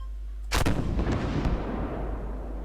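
A single artillery shot fires in the tank game Armoured Warfare, a sharp loud boom followed by a long rumbling decay.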